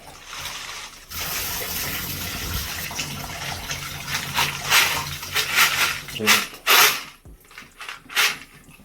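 Reloading brass casings get a final rinse under running water, a steady gush and splash that swells into louder sloshing and rattling bursts toward the end.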